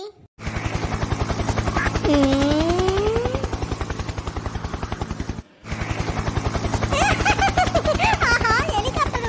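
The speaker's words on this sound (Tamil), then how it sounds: "உங்க வீட்டு மொட்டை மாடி மேல ஒரு ஹெலிகாப்டர் வரும்" A steady, rapid rotor chop like a cartoon helicopter hovering close by, with whistling, squeaky tones sliding over it and a brief break midway.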